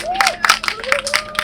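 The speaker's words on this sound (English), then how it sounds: "Let's give everybody a round of applause." Brief burst of clapping from a small crowd at a Seattle Cruise Control press conference, uneven and scattered over about a second and a half, with a tonal voice-like sound running beneath.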